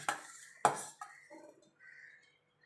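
A metal lid set over a pan of boal fish frying on low heat gives two sharp clanks followed by brief rattling and faint clinks, close and otherwise quiet.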